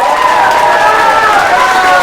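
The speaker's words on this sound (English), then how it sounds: "Let's hear you make some noise for this guy up here." A crowd at a letter-of-intent signing for a cross-country runner cheers and shouts in a loud, sustained roar with no break, dense and close.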